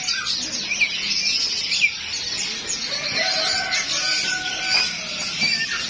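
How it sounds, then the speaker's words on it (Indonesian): Jalak kebon mynas in a bird shop give scattered chirps and short calls over a busy background of other cage birds, fairly close and continuous. "Nih, jalak kebonnya stoknya lagi banyak."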